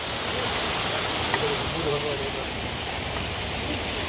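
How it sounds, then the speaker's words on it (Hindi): A waterfall along the Kedarnath mountain trek gives a steady, dense rushing roar that fills the scene evenly, with a voice speaking faintly beneath it. "एक और वाटरफॉल ये रहा।"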